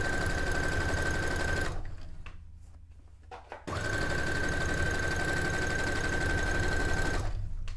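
A sewing machine stitches fabric for a cone-shaped cape dress, running in a loud, steady, rapid whir. It pauses for about two seconds, then resumes at the same pace.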